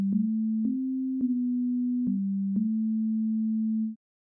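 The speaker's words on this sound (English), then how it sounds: "Okay, now we have a sine wave." A pure, smooth synthesizer sine wave tone from a Rob Papen Predator plugin holds steadily, stepping slightly up and down in pitch with soft clicks at each change, then stops abruptly.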